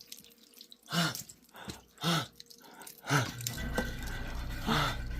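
Water drips and runs into a flooded basement during rain, with a few distinct splashy drops early on followed by a steady close trickle of running water.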